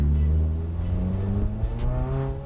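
Subaru WRX engine revving at slow speed in second gear, a steady close drone with rising and falling harmonic tones, loud and alone.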